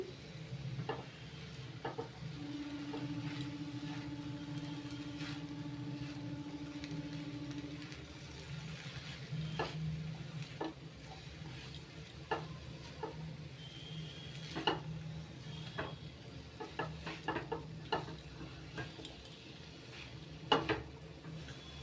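A spatula stirs handmade vegetarian chow mein with fried paneer and tomato sauce in a pan, giving soft scraping and clinking strokes over a faint sizzle, close and fairly quiet.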